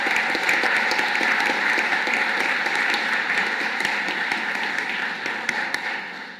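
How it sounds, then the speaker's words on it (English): Audience applause in a hall at a Royal College of Physicians of Ireland membership conferring ceremony: a dense, sustained wash of many hands clapping together, steady and full throughout before easing slightly at the end. "I think they deserve a round of applause."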